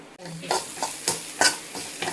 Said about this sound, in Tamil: எல்லாத்தையும் நல்லா கொஞ்சம் வதக்கிக்கலாம்